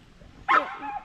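A dog gives a single short, sharp bark at close range, followed by a faint trailing whine.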